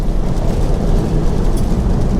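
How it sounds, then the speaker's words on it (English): Inside a Tesla, the windshield defroster fan blows hard in bad weather, a loud, steady broadband rush with heavy low rumble throughout. "it's going to get a little noisy, but I'm going to defrost the windshield."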